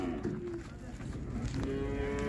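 Cattle at a livestock fair in Águas Belas low and moo steadily, one long drawn-out bellow after another, close and fairly loud with a busy crowd murmuring behind.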